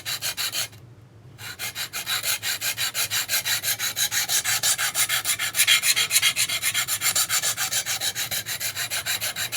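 Steady back-and-forth rasping of a knife blade drawn across a 150-grit stone on a TSPROF Pioneer guided sharpener, loud, close and rhythmic, with one short pause near the start and no talking.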